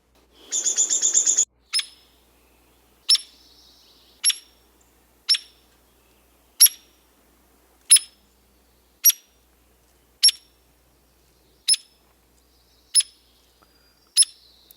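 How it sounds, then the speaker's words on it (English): A hairy woodpecker gives an opening rattled burst, then a steady series of sharp, high single peek calls spaced about a second apart, crisp and fairly close against a quiet background. "Here's a hairy woodpecker."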